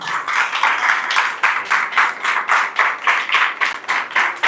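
A church congregation claps in rhythm during a sermon, a regular series of loud, evenly spaced claps about four per second, with no voices.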